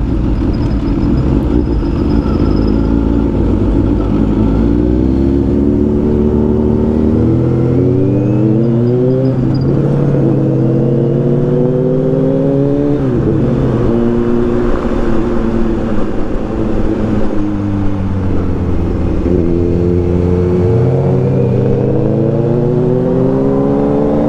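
A 5.0 GT Ford Mustang engine pulls hard as the car accelerates, a loud continuous growl rising and falling in pitch through several gear changes, heard from close by without any talking.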